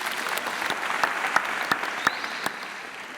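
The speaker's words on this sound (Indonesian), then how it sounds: "Tepuk tangan semuanya rek untuk beliau." Audience applause at an East Java gathering on Islamic heritage, a steady spread of clapping with a few sharp, distinct claps standing out near the front.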